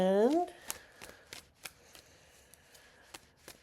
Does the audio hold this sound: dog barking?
no